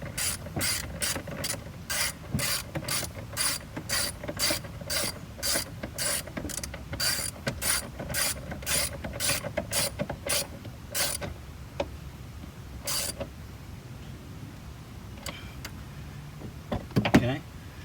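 A ratchet tightens the 10mm screw holding a Chrysler 300 battery in place, giving a long run of rapid, evenly spaced clicks up close, then a few scattered clicks and handling noises.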